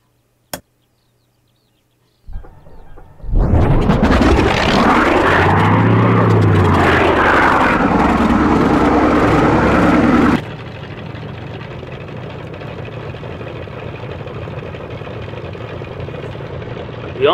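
Kyushu J7W Shinden piston engine in a flight game cranking after a click, catching with a loud roar that swells and churns for several seconds, then settling into a steady, quieter idle drone.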